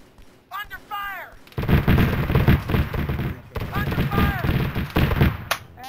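Arma 3 combat with the OPTRE mod: heavy gunfire and booming artillery-like blasts roll in rapid, sustained bursts. Voices shout over the firefight, loud and close.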